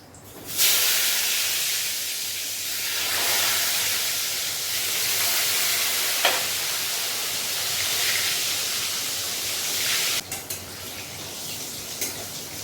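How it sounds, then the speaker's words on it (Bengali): Eggplant slices hiss loudly in hot oil in a thick kadai, a steady broad sizzle that swells and eases over several seconds with a few sharper pops and crackles, no talking. "এখানটা বেগুনটা আমি দিয়ে দিচ্ছি এই কড়াইয়ে"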